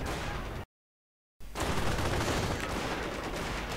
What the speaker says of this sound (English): So much artillery getting called down